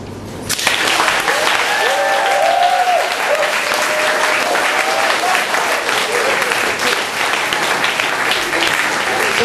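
Audience at a university poetry slam between Birmingham and Bath Spa breaks into loud, sustained applause that fills the room, steady dense clapping with a few cheers, lasting throughout.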